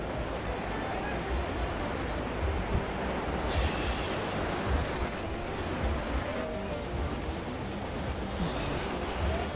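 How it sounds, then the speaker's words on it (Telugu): Big ocean waves roll in at Baga Beach in Goa, a continuous, loud, broadband roar of surf and wash that fills the whole stretch without a break. "పెద్ద పెద్ద అలలు అయితే వచ్చినాయి మనకు"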